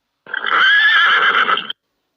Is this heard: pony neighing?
yes